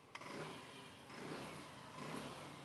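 A Honda Lead scooter engine starts with a sharp catch, then runs and revs in low, rising swells, faint and somewhat distant, with no talk over it.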